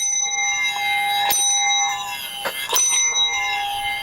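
A bell used alongside paranormal tools rings nearby with sustained metallic tones and a few sharp strikes that ring out and linger across the whole stretch.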